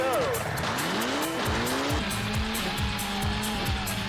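A Citroen Xsara rally car in the WRC racing game roars at high revs, engine pitch sweeping up and down through rapid gear shifts alongside tyre squeal, loud and steady, with a voice talking over it.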